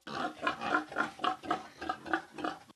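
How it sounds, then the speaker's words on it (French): Pigs on a pig farm grunt in a steady series of about ten rhythmic, close, moderately loud grunts. "Par mois, ce sont des centaines de porcs que Bernard Kouakou vend aux charcutiers ou aux particuliers"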